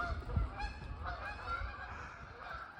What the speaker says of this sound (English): now you can see at least there are geese here.